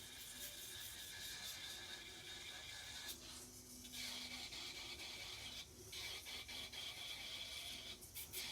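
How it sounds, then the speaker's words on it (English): A Bell portable nail drill buffs acrylic-style dip powder nails with a close, quiet, steady whirring rasp, broken by short pauses and small shifts in pitch as the bit moves over the nail. "So I'm giving these an extra buff because I am adding more to the nail here in a little bit."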